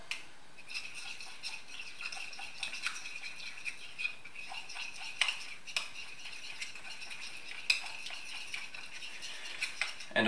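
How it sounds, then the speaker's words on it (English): Utensil stirring sashimi sauce ingredients in a small dish, a steady run of light clinks and scrapes, quiet and close, with no talking. "Mix together"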